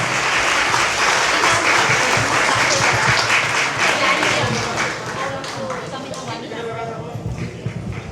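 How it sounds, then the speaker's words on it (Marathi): Sustained applause from an audience for a performance by young children, loud and dense throughout, easing slightly toward the end. "सगळ्यांनी एकदा जोरदार टाळ्या मुलांसाठी"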